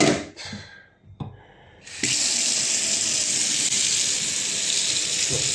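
Hot water running steadily from a tap into a sink in a social housing flat, a constant hiss and splash that starts after a few brief spurts and continues alone without talk.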